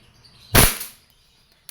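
A single sharp crack from an E&C Glock 17 Gen 5 airsoft pistol in FDE, fired once near and loud in an otherwise quiet spot, with a short fading tail and a faint click afterward.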